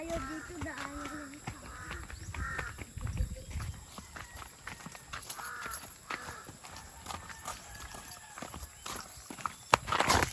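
A large horse walks along a trail at a nature camp resort, its hooves clip-clopping in a steady, uneven rhythm close by, while people talk over it and a bird calls faintly.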